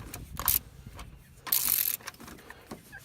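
A socket wrench ratchets in two short close bursts while removing a spark plug from a car engine, with quiet handling noises between.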